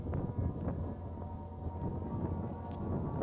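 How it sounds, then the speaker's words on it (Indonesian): Strong wind blows across an open drone flying field, a steady broadband rumble and buffeting on the microphone throughout, with no talk. "Kalau angin sekuat begini memang tak lepas lah ni"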